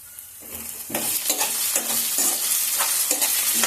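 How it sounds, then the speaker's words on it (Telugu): Cardamom, cinnamon, star anise and cloves fry with onions for a potato curry, a close crackling sizzle punctuated by a steady rhythm of spatula stirs scraping the pan. "ఇవన్నీ బాగా కలిసేటట్టు వేయించుకున్నాను బాగా వేయించుకోవాలి ఉల్లిపాయలతో పాటు ఇవన్నీ బాగా వేగుతాయి"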